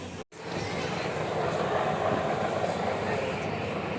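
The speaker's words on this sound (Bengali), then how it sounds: "হেলিকপ্টার এসে গিয়েছে এখানে" A helicopter comes in overhead at Sridham Mayapur amid a crowd. Its loud, steady broadband roar fills the scene without letup after a brief dropout near the start.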